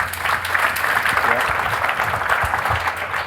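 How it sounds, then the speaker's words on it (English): Studio audience at a startup interview event applauds in a steady, dense wash of clapping that holds for several seconds, fairly close and loud, with no one talking over it. "I think that's worth a round of applause."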